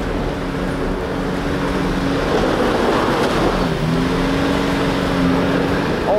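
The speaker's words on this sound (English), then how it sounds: "All I could hear was the engine revving," Car engine revving hard off-road while losing traction in muddy ruts, a loud, steady droning roar that rises and shifts in pitch as the wheels spin, with no talk over it.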